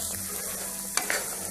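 Chickpeas stir-fried in a pan make a low steady sizzle, with a quick scrape or tap of the spoon near the end of the short stretch, close by and without speech.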